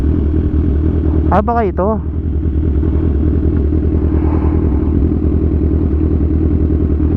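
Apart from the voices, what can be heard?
motorcycle riding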